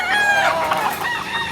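Kearney White Hackle gamefowl brood bull stag crowing, one drawn-out, loud, close crow that fills the short moment on its own, with no talk over it.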